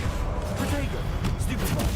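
Blasting-curse explosions and spell impacts in a Hogwarts Legacy duel, a short burst of rumbling blasts and crackling hits under shouted spell incantations.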